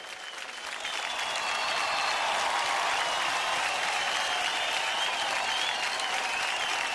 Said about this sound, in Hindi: फैंटास्टिक, जोरदार तालियों